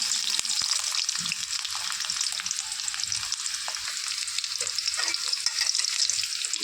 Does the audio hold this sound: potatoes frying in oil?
yes